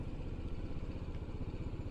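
A touring motorcycle on a Sweden-to-Pakistan ride runs at low revs beside a synagogue in Turkey while being parked, a steady, mid-level engine putter with faint clatter, fairly close and without talk.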